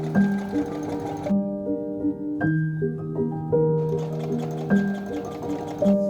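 A sewing machine stitching tear-away clothing with snaps, a loud close steady mechanical hum with shifting tone and rhythmic needle ticking, running alone without talk.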